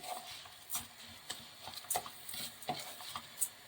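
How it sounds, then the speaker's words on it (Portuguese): Rice grains being stirred into melted butter in a pan make soft, scraping stir strokes with light crackles, an irregular rhythm of close, quiet pushes and taps. "Eu introduzo o nosso arroz. Mexer para que todos os grãos fiquem embebidos, né, na manteiga."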